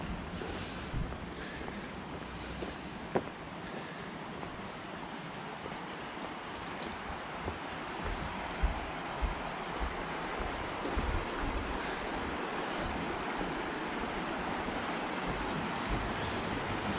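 The Provo River flows under a bridge in the mountains, a steady broadband rush of water that stays constant and moderately distant, with a few faint clicks and no speech.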